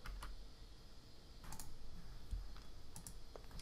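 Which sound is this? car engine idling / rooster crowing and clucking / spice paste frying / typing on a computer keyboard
typing on a computer keyboard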